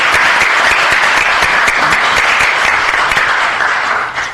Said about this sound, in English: a big round of applause for doing great work